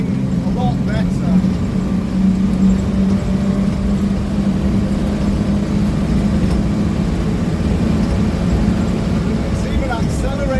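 Six-cylinder engine of a 1 ton 109-inch Series Land Rover accelerating uphill, a steady low droning rumble heard from inside the cab, constant and moderately loud throughout.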